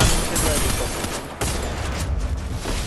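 Gunfire in the Free Fire video game during a Grandmaster lobby match: a loud, dense run of rapid overlapping shots and bursts that barely lets up, with a short break near the middle.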